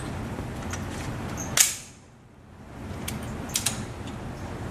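Glock .45 ACP pistol shots outdoors: one sharp, fairly close report, then a short gap and a couple of quicker, fainter cracks, over a steady background hiss.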